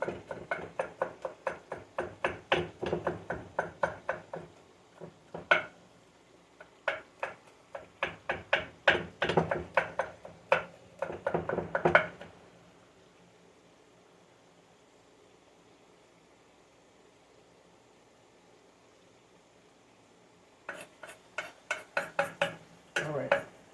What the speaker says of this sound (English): while I'm cutting, let me push this over